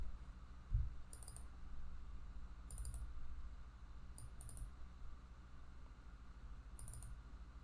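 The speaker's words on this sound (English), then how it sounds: "you can just click on any of the edge and double click it while pressing shift." Faint, sparse computer mouse clicks while selecting edges in Houdini, several short single and double clicks spread over a quiet room background.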